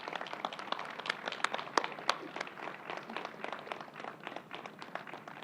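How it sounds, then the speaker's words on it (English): Sustained round of applause from an audience at a state government press briefing, a thick, even patter of many hands clapping at moderate distance, continuing throughout without voices. "let's give them another round of applause and welcome Donna Lepardo."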